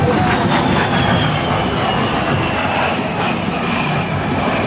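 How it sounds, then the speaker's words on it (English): An A-10 Thunderbolt II jet flying low in a demonstration at a joint-services military open house, heard as a loud, steady engine roar with a slow falling whine, constant throughout with no talk. "Twisting and turning low over the battlefield, the Warhawk can deliver devastating firepower"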